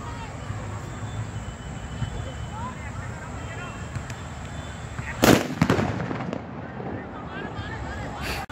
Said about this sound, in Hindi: वहाँ पे पटाखे फोड़े थे हमने, वो मैंने थोड़ी बहुत क्लिप लगा दी है